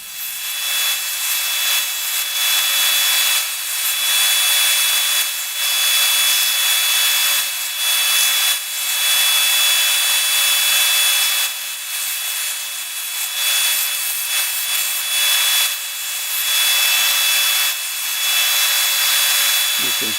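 Hand carving the rocker into a wooden surfboard replica, with steady rasping strokes against the wood repeating in a continuous rhythm for about twenty seconds, close and fairly loud, with no talking.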